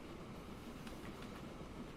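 A train passes in Transport Fever 2: a quiet, continuous rumble of railcars with a faint rhythmic clickety-clack of wheels over rail joints and no voices.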